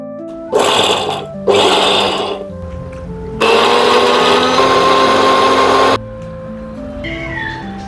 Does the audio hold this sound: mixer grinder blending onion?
yes